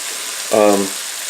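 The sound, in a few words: pork or beef frying in a pan for jjajangmyeon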